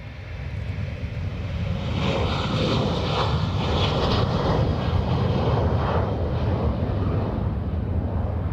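Airplane on the runway at Dublin Airport, a steady broad roar of aircraft engines that swells slightly and holds, heard from a distance with no voices.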